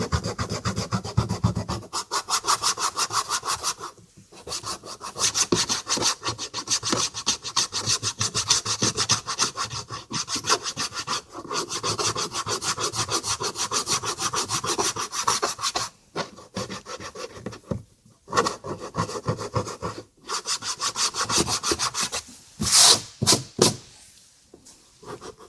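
An eraser scrubs dried polishing compound stains off plastic car trim, a steady, close rasping rub in long continuous strokes with a few short pauses.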